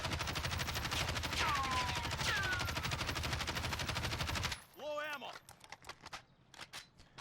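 A Kilo assault rifle firing full auto in Warzone, a loud, rapid, continuous burst of gunfire lasting several seconds, ending abruptly and followed by a few quieter clicks and clatters.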